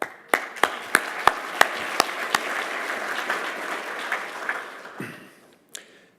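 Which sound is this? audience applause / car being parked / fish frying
audience applause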